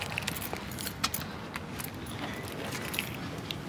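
Car keys jingle in soft, scattered metallic clinks while a car door is locked, faint and close with a few sharper taps.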